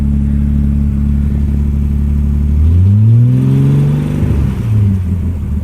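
A 1970 Mercedes-Benz 250 engine runs loud and close just after starting following ignition coil troubleshooting, a steady rough idle that swells into a brief rev and then settles back.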